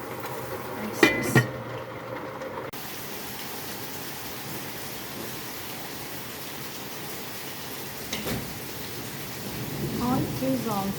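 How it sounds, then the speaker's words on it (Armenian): Heavy rain falling steadily outdoors as a continuous close wash of noise, with a couple of sharp knocks near the start and a voice joining toward the end. "Այ քեզ անձրև։"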